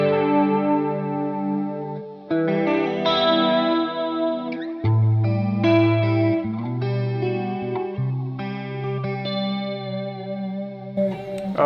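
An electric guitar plays a melodic, chiming passage through a Golden Reverberator effect, with lush shimmering sustain and echoing chords ringing clearly and alone.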